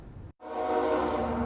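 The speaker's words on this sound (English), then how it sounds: "locomotive engineers will no longer have to blast their horns" Train horn sounding at a railroad crossing, a loud sustained blast broken by a brief gap before it resumes, with low rumbling rail noise underneath.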